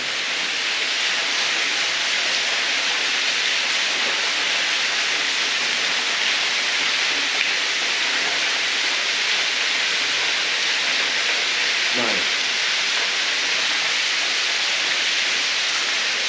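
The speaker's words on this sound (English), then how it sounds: "just have a quick look at the waterfall here" Steady, broad rushing roar of falling water, constant and fairly loud throughout, with a brief low thump partway through.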